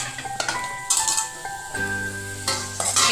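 Grated bottle gourd sautéed in hot oil with turmeric, a soft sizzle broken by clinks and scrapes of a spoon stirring against the pan.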